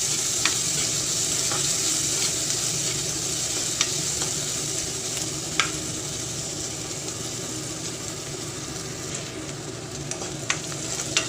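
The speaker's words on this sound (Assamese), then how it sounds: "আৰু এতিয়া অকণমান ৰঙচুৱা হোৱালৈকে ভাজিব লাগিব।" Onion, ginger and garlic frying in oil with black mustard seeds, cooked until reddish; a continuous close sizzle with occasional spatula scrapes and small pops, no voices.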